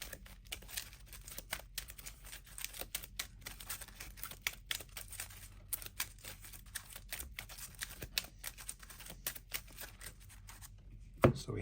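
Marvel Champions card game cards are shuffled at a tabletop, a quiet run of rapid soft flicks and riffling taps continuing for several seconds, ending with a sharper thump.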